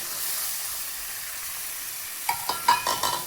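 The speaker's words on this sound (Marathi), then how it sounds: "गवारीची शेंग टाकली का आता हलवून घेते" Cluster beans (gavar) fry in a pan with a soft, steady sizzle that runs throughout, then a few sharp stirring scrapes and clatters of the spoon near the end.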